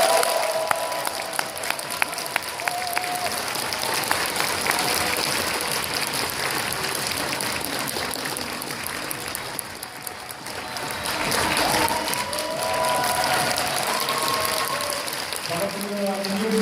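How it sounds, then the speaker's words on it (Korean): An audience at an indoor business presentation claps and cheers to welcome a speaker, sustained dense applause that dips briefly midway and then swells again, with voices mixed in. "모실 때 여러분들이 박수와 환호로 맞이해 주시면 감사하겠습니다"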